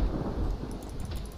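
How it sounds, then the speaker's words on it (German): Steady rain with a low rumble of thunder rolling underneath in the video game Project Zomboid, fairly close and filling the whole moment, no voices. "Und es regnet wieder"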